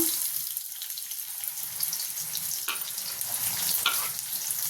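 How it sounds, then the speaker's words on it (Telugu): Sliced onions frying in hot oil with mustard seeds, cumin and dried red chillies, giving a steady close sizzle with occasional soft crackles and faint clinks throughout, no voices. "ఉల్లిపాయలు ఎర్రగా ఫ్రై చేసుకోవాలి"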